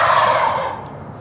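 A wild turkey lets out a single loud, close gobble, a rapid rattling burst that fades out within about a second.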